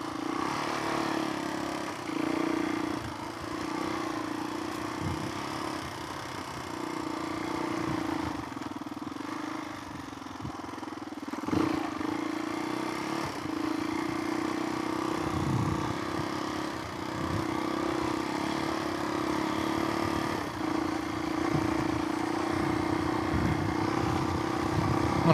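Suzuki DRZ400E dirt bike with a big-bore stroker engine and wide-ratio gears, ridden on a levee-side trail: a steady, close engine drone that rises and falls with throttle changes for the whole stretch, with no one talking.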